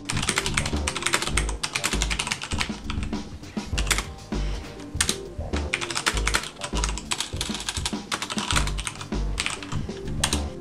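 Quick, steady typing on a computer keyboard, with a dense run of close, crisp key clicks and short pauses between bursts, heard alone with nobody speaking.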